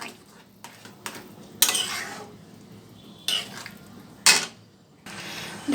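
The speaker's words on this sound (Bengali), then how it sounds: "এবার কিন্তু এর মধ্যে দিয়ে দেবো ভিজিয়ে রাখা সাবুদানাগুলো" Soaked sago pearls go into a pot of cooking khichuri: a few separate bursts of clattering and scraping with a spoon against the pot, spaced apart, with a quieter steady cooking hiss between them and no voice.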